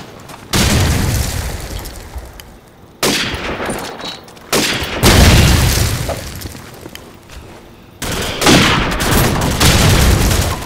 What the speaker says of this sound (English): Oh, a grenade got him.